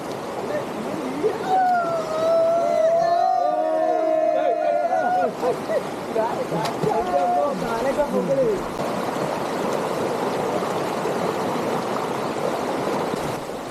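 Steady rushing of stream water flowing nearby, with voices talking over it in the first half.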